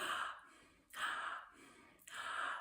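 Three loud, breathy inhalations taken through the mouth while the head lifts, a singing demonstration of faulty breathing, each a rushing gasp separated by short pauses.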